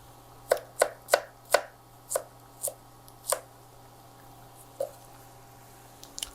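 Fresh okra sliced on a cutting board for gumbo, about eight crisp knife taps in an uneven rhythm followed by a pause and one last cut.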